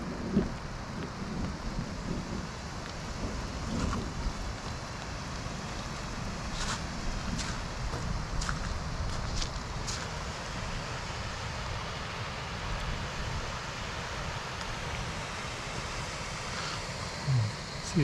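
Rain and wind in Yankee Boy Basin, a mountain basin, a faint steady hiss with low gusty rumble and occasional soft patters, continuous and without talk.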